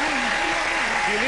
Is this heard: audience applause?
yes